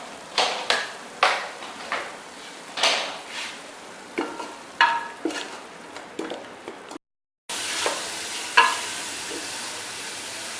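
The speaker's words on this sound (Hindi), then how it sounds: "ये मैं मसाला भून रही हूँ।" Spice masala with red chilli and turmeric is fried in a pan for aloo matar, with a steady sizzle and repeated scraping strokes of a spoon in a regular stirring rhythm, briefly cut off before resuming louder.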